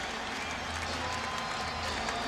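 Arena crowd noise at an NBA playoff game between the Philadelphia 76ers and Charlotte Hornets, reacting to Allen Iverson: a steady, distant wash of murmuring and cheering with faint clapping, continuous throughout.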